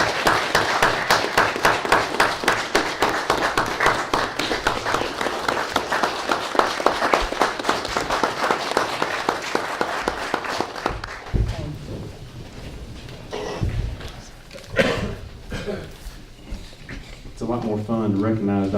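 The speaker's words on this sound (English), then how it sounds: "I think we should all give her a round of applause" An audience at a board meeting breaks into sustained, dense clapping that fills the room, then thins to scattered claps and fades as people start talking.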